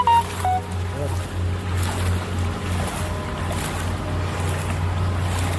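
Floodwater swirls and laps inside a flooded garage as a continuous watery wash under a low rumble. It sounds close and steady, with someone talking over it.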